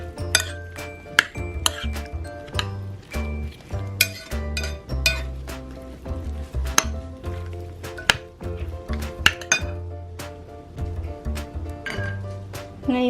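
A spoon stirs cucumber salad dressed with calamansi juice in a bowl, making a quick run of bright clinks and taps against the dish, repeated in an irregular rhythm, close and fairly loud with no talking.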